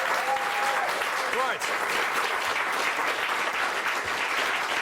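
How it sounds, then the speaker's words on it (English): Sustained audience applause at a nature-programme live studio show, dense and steady throughout, with a brief spoken word and a faint whistle-like tone over the clapping. "Big round of applause for Neil."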